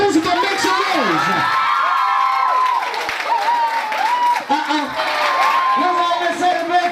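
Schoolgirls at a girls' senior grammar school seminar cheering and screaming for their principal, a loud crowd of high-pitched whoops and shouts with clapping, continuous throughout and close by.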